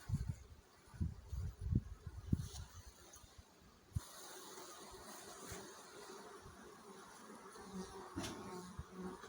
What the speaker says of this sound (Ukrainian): от ми добралися, бачите, до маточного вулика